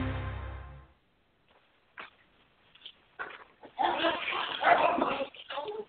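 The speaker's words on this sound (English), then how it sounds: "I was moving away from the dog to avoid the noise" A dog barks and yips in short, irregular bursts, fairly close and moderately loud, after a brief stretch of talk and near silence.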